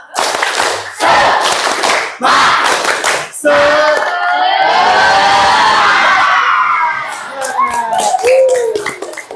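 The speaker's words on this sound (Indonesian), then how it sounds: "Untuk mengakhiri kita tepuk semangat dulu, biar semangat." Children in a class perform a group spirit clap: several sharp, rhythmic bursts of clapping in quick succession, followed by loud excited shouting and chanting voices from the group.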